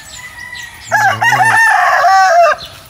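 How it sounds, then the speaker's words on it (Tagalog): Fighting cocks on a Philippine farm crow, a loud, close call with a harmonic-rich opening note followed by a long drawn-out tail, standing alone without talk. "More fighting cocks."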